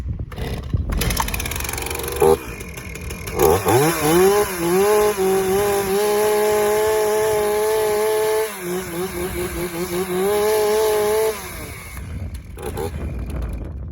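A chainsaw, set with the chain brake on and half choke, is pulled over a few times and then fires. It revs up and runs loudly and steadily up close, with its pitch rising and falling.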